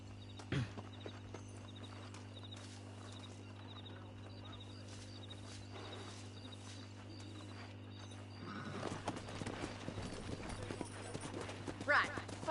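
Horse hooves clip-clop steadily as a rider travels on horseback in the Red Dead Redemption video game, a soft rhythmic patter under a constant hum, with a louder burst of movement and activity near the end.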